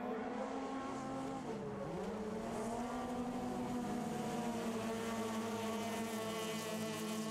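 Race cars lap a winter ice track, engines droning steadily with rising and falling pitch as they accelerate through a turn, heard faintly from a distance as a continuous blended roar.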